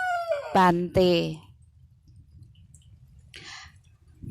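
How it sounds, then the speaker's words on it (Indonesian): A rooster crows once, loud and close, in a short two-part call near the start. Quiet background noise and a faint voice follow. "Terdengar suara ayam"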